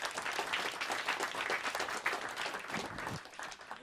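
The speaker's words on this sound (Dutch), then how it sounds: "Applaus voor Nieske" Audience applause at a children's robot event, dense, sustained clapping from a crowd filling the space, fairly close and even throughout.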